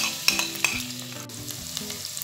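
Chopped onion and a big spoon of butter, with vegetable oil, sizzling and being stirred in a pan, a close steady frying hiss broken by a few clinks of the spoon, with no voices.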